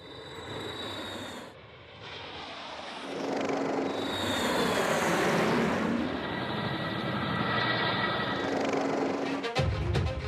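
Indian Air Force fighter jets at an airbase near the eastern Ladakh border roar overhead, a broad rumble that swells loudly over several seconds and then fades.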